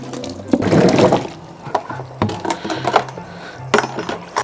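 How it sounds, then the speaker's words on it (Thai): Mangoes are washed in salted water, with splashing and running water sounds, bursts of handling, and knocks of fruit against the container, fairly close and continuous without talk. "ล้างลูกมะม่วงที่เราล้างสะอาดครับ"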